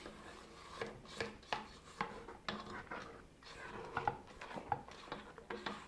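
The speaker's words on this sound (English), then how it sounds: "I'm going to stop the mixer and scrape the bowl." A spatula scrapes a cake batter mixing bowl with the mixer stopped, making a series of close, rhythmic scraping strokes and light clinks against the bowl.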